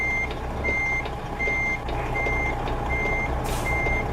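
Reverse alarm on a truck in American Truck Simulator, a steady series of evenly spaced high beeps over a continuous low diesel engine rumble, with a brief hiss near the end.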